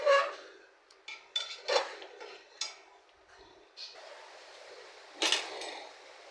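Spiced chicken stirred in a cooking pot: a spoon scrapes and clinks against the metal in several sharp, irregular knocks and taps, fairly close but quiet, with short pauses between strokes.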